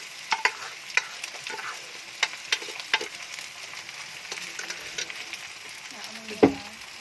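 Rice for kimchi fried rice is sautéed in a pan, with a quiet, soft sizzle broken by sharp spatula scrapes and taps and one louder knock near the end.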